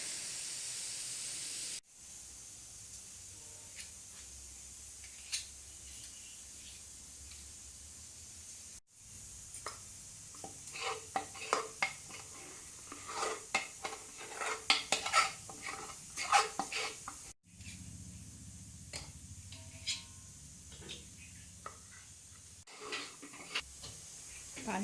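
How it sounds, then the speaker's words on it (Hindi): Several pressure cookers holding daleem ingredients such as lentils, barley and wheat sit on a gas stove in a home kitchen, giving off soft steady hiss with scattered clinks and stirring of utensils, under occasional quiet talk. "सारे जितने भी घर के कुकर थे वो सब जो है वो गैस पे सवार हैं"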